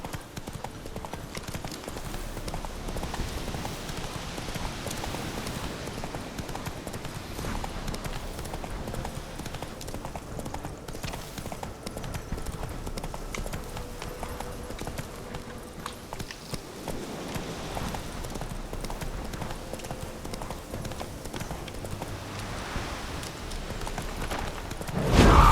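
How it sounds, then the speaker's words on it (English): Steady clip-clop of a horse's hooves in The Witcher 3 video game, a continuous walking rhythm running the whole way under ambient game sound, with a brief louder burst at the end. "Come on, Roach."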